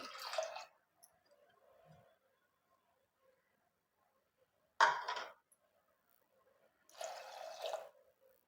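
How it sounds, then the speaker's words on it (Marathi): Water is poured in three short bursts, splashing into a pressure cooker holding soaked lentils for sambar, with quiet pauses between pours. "इथे घालू पाणी"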